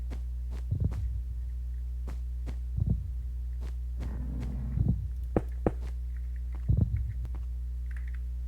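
Heartbeat sound effect in a Minecraft modpack game world, a series of low, muffled throbbing thumps spaced irregularly over a steady low hum, fairly faint and with no talking.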